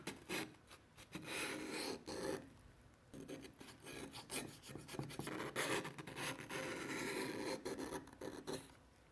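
Steady raspy scrubbing of carbon buildup off engine valves on a WRX, close and quiet, with repeated rubbing strokes broken by short pauses.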